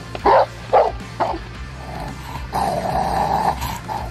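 A Rottweiler guarding its owner gives three loud, close barks at a fairly even pace, then slides into a long, steady rumbling growl that holds for the rest of the stretch.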